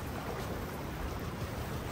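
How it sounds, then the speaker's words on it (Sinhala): A strong river current rushes continuously in a steady, dense roar of water close by, with some wind buffeting mixed in. "වතුර පාර ප්‍රෙෂර් එක ටිකක් වැඩි වෙන සීන් එකකුත් තියෙනවා."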